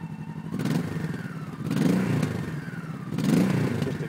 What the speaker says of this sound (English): Good, mellow, little throaty sound from the V-twin.